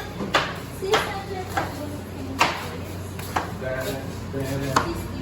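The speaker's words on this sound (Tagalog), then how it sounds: "ito po talaga ang way of chopping onions" A knife chops onions on a cutting board in a kitchen at a beach rest house, with irregular sharp knocks spaced about a second apart, fairly close, while people talk in the background.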